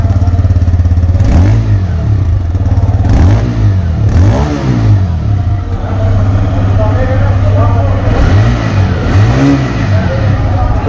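A TVS Raider 125 motorcycle engine runs loud and close at a steady idle with a deep, bassy exhaust, punctuated by several throttle blips that rise and fall; someone talks over it.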